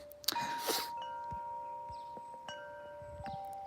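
Woodstock Chimes of Paradise wind chimes ring softly in a garden early in the morning, sending out sustained metallic tones that overlap and linger, with a louder rustle at the start and a faint outdoor background.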